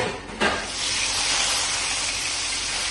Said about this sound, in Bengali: এবার দিয়ে দিলাম কেটে রাখা আলু